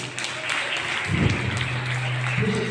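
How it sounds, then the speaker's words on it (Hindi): Children and audience clapping at a Hindi primary-school speech competition for classes 3 to 5, a continuous patter of hands with a voice speaking briefly over it. "जोर से बजाओ ताली"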